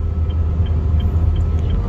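A car engine drones steadily during a driving lesson on the road while overtaking slower vehicles, a continuous low rumble that stays fairly loud and even throughout with no voices.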